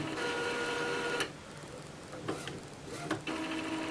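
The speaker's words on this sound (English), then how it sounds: "press the ink drop button so the printer can start charging up the printer" An Epson inkjet printer charging its ink cartridges, a quiet mechanical whir with pumping hum broken by a few short clicks and shifts of the carriage.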